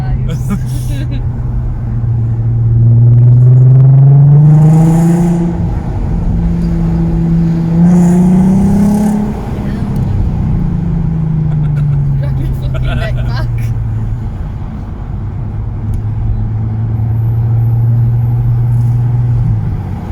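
A VW Golf R32 mk5 engine revs loudly while the driver shifts gears, its pitch climbing and dropping in long sweeps and then settling into a steady drone, with someone talking over it in the car.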